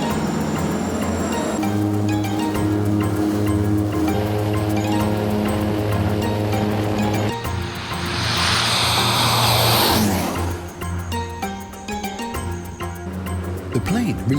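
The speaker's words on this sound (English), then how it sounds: "The engines are started and the plane takes off." Propeller engines drone steadily and rise in pitch, then a loud roaring rush swells and fades as the plane takes off, with talk over it.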